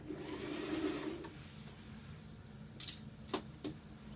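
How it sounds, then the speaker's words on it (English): A sewing machine hems right at the edge of a dress, running steadily for about a second and a half, then stopping, with a few quiet clicks and taps after it. "So now we hem in the dress, and right at the edge of the dress, there where you're going to hem."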